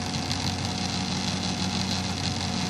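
The motor of an SD70M model locomotive runs steadily while its wheels spin in place, giving a continuous close whir and hum with a faint buzzy rattle and no pauses.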